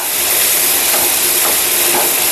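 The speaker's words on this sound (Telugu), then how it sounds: "లైట్గా ఫ్రై అయితే చాలండి." Grated coconut fries lightly in a pan, giving a continuous, close, loud hiss and sizzle that holds steady throughout with no talking.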